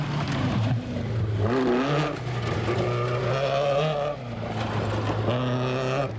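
A Group B Opel Manta 400 rally car at full effort on a rally stage, its engine roaring loud and steady with rising and falling revs through gear changes, close by and continuous.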